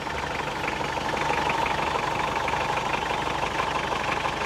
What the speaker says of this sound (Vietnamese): tiếng máy thì dường như khó có thể nghe thấy một cái tiếng lạ nào. Nó rất là tròn.